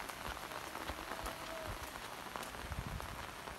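Steady rain falls on a flooded road, a dense, even patter with scattered sharper drops and splashes, close and continuous throughout, with no voices.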